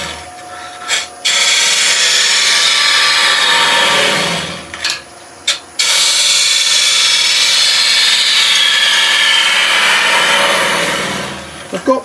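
A wood lathe hollows out a bowl turned from UK fan palm, giving a steady, loud broadband scraping and cutting hiss with brief pauses between cuts.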